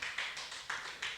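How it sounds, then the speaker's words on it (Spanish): A short stretch of steady congregation clapping during a church service, evenly paced beats with soft reverberant wash, moderately distant. "Denle un aplauso al Señor."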